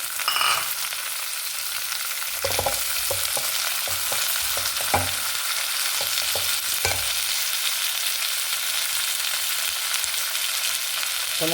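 Onions and tomatoes fry in a pan for tomato chutney, giving a steady, close sizzle with scattered clicks from stirring and no talking.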